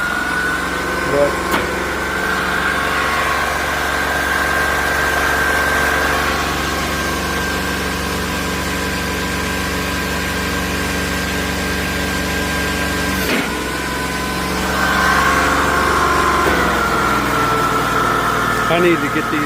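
A homemade V6 engine powering a log splitter runs steadily with a continuous droning hum and whine, briefly interrupted by a knock, then picking up slightly as it revs, with someone talking over it.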